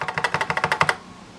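The keyboard of a 1986 Mac Plus clatters as about a dozen crisp, evenly spaced keystrokes come quickly and close up, then the typing stops and leaves near silence.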